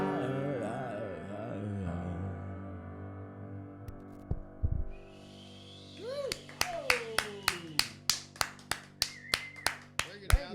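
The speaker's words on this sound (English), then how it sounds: "we got our own crowd noise here" A small live audience claps and snaps fingers at a music show, beginning after the last sung notes fade and a short pause, then a steady run of sharp, evenly spaced snaps and claps close by.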